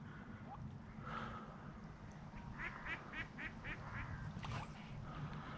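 Ducks quacking on a reservoir, a run of several quick quacks in a row, moderately distant, over a steady low rumble of wind and water.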